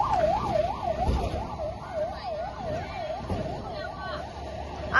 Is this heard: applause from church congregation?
no